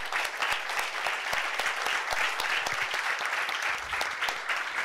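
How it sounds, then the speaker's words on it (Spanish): An audience at a Panamanian chamber of commerce event applauds a panel of experts, with dense, steady clapping that fills the whole stretch at an even, sustained level. "yo quiero que ustedes le den un fuerte aplauso al panel de expertos"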